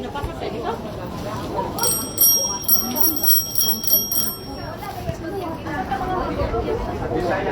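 A bicycle bell rings in a quick series of bright dings over a couple of seconds, close by, with voices chattering around it.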